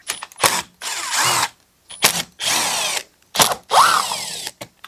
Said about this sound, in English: Take out the 4 screws that come around the intake boot right here.